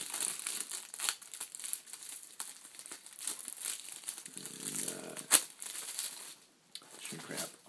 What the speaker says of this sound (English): Shrink wrap off.